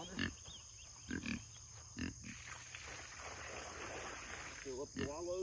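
Farm pigs grunt in short repeated bursts beside a wallow as it fills, with a steady wash of running water under the grunts.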